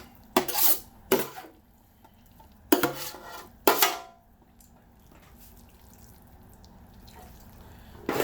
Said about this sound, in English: Try to stir it all in this